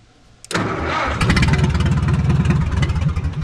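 A small engine, worked with the choke and throttle while loading a trailer, cranks and catches at half a second, then runs loud and steady with a rough, pulsing idle that rises slightly as throttle is added.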